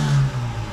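A 1991 Škoda Favorit 135L engine hums with a low, steady drone that swells briefly and settles, close by, with no voices.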